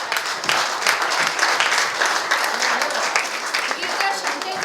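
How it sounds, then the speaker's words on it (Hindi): Sustained audience applause at a theatre and arts event as a senior stage figure is welcomed, a dense steady clapping that stays fairly loud and even throughout with no voices on top. "आप सबकी तालियों के बीच"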